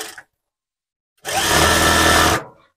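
A sewing machine stitching a sleeveless blouse runs in a single loud burst of about a second, alone and close, then stops.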